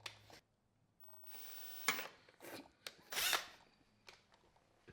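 Power drill boring holes in a chassis-mount front splitter on a Varis-equipped Honda Civic Type R FK8, in several short bursts with pauses, fairly close and moderately loud.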